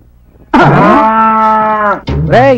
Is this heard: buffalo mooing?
yes